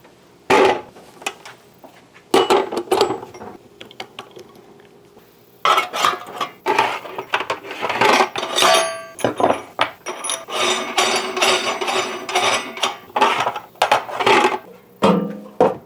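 Ground marjoram, mace, celery seed and milk powder are stirred together in a bowl for corn dog sausage, giving bursts of close, dry scraping and rubbing with brief pauses between strokes.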